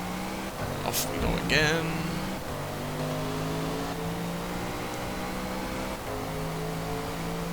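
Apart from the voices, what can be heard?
V8 car engine accelerating, Forza Motorsport video game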